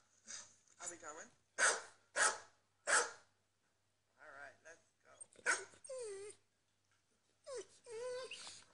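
Dogs barking and whimpering played back from a YouTube video, several short loud barks followed by yips and whiny cries, with pauses between bursts.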